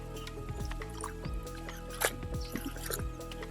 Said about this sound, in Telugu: ఇలా బెల్లం నీళ్ళు పోసుకున్న తర్వాత ఒకసారి మొత్తం మిక్స్ చేసుకోవాలి